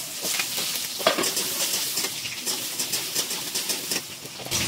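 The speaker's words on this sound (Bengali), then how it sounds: "আলুটা আমি ভালো করে ভেজে নেব।" Diced potato sizzling and frying in a pan with cumin and garam masala, a steady close crackle with occasional stirring scrapes throughout.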